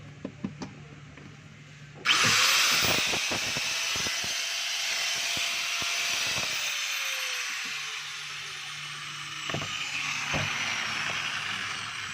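A DeWalt DWE8200S 4-inch angle grinder, freshly fitted with a new cord and plug, spins up abruptly with a loud high whine, runs steadily, then winds down with a falling pitch; a few clicks and taps precede and punctuate it.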